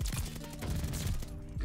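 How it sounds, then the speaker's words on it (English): Combat shotgun fire in the Call of Duty Vanguard video game, a dense, loud volley of close blasts layered over game noise, with a brief voice. "It's also a combat shotgun."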